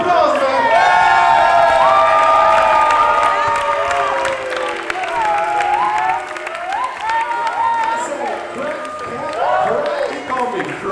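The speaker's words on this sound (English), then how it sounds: "I said Cash, a huge applause, man." Crowd at a krump dance conference cheering, whooping and applauding loudly for a dancer, with shouts and voices mixed into the sustained noise.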